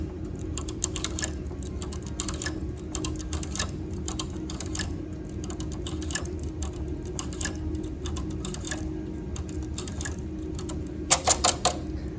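A domestic knitting machine during transfer work, every other needle shifted to the right: rapid, irregular clicking and clacking of metal needles and tools over a steady low hum, with a brief louder burst of clicks near the end.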